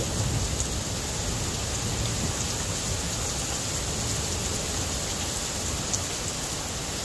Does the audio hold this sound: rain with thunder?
yes